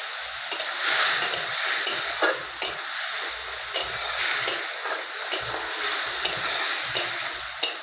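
Chopped tomato fries in a pan over a high gas flame, giving a continuous sizzle broken by regular scraping stirs and light clinks of a utensil against the pan. No voices.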